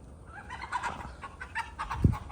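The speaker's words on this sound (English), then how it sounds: "Sorry about the chickens again." Backyard chickens cluck in scattered bursts beside a barbecue smoker setup outdoors, with one louder low squawk near the end and no talk.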